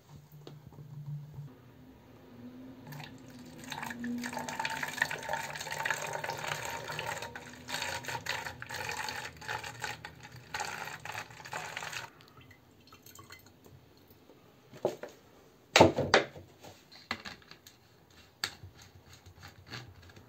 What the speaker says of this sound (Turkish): Şimdi hazırladığımız suyu buna boşaltıyoruz.